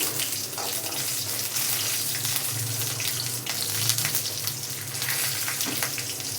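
Garlic cloves and dried red chillies sauté in a pan with cumin and tamarind, a dense, steady sizzle that runs close and even throughout, with no talk.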